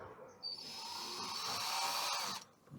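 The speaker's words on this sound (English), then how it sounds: "we will drill our first" A power drill bores the first hole during a DIY three-tap beer kegerator build, whining steadily and loudly for about two seconds before cutting off.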